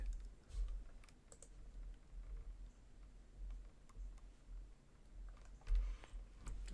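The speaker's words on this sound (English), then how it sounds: "so we're going to type in 40" Typing on a computer keyboard: a run of quiet, close key clicks in uneven bursts and pauses, with no talk.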